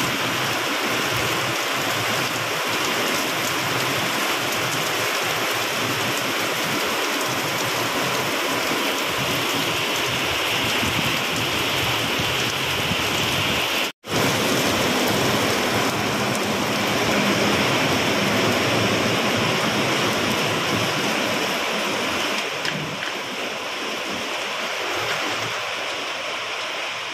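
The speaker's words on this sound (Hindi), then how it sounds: "कभी बारिश काफी तेज वाली आई, चली भी गई लग रहा है" Heavy rain pours in a loud, dense, unbroken hiss that continues almost without change, apart from one brief dropout midway.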